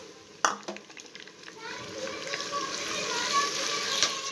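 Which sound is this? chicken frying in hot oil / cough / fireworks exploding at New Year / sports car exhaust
chicken frying in hot oil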